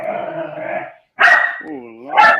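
Texas Blue Lacy ranch dogs, a Greyhound, English Shepherd and wolf mix, bark and bay loudly nearby, a drawn-out howling tone broken by sharp barks.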